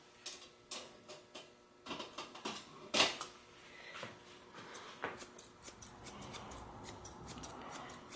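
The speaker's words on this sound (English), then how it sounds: "Little thinning shear action on his chest." Thinning shears trimming the chest fur of a Pomeranian, heard as close, quiet, irregular snips in short bursts with small pauses between cuts.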